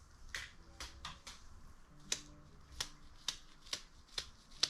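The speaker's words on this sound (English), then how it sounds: "I pre-flick it on a piece of cardboard" Spray paint flicked off a finger onto cardboard makes a string of about nine sharp, close snapping flicks at a steady uneven rhythm, each a crisp bright click with a faint spatter.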